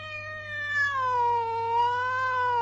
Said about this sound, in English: How you doing, pretty kitty?